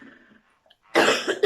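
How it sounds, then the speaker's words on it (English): A single harsh cough bursts out suddenly after a quiet pause, loud and close, following a few faint breaths. "Excuse me, I've got a really bad cough."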